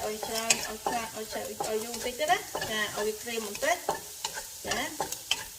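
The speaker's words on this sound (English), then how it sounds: "you stir it until it's dry a bit" Tofu with sugar is stir-fried in a pan, with a spatula scraping and clattering in quick irregular strokes over a light sizzle, and a faint voice-like tone underneath.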